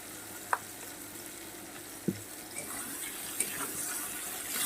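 Potatoes and pointed gourd fry in a pan with a soft, steady sizzle, punctuated by a few sharp clicks of a spatula against the pan; fairly quiet and without talking.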